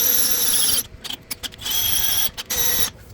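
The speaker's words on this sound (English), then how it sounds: "those deburring bits make absolutely quick work of the really strong sway bar material" A drill with a deburring bit bores through a steel Jeep Grand Cherokee WJ sway bar, giving a loud, high-pitched grinding squeal that cuts off and then returns in short stuttering bursts before resuming steadily.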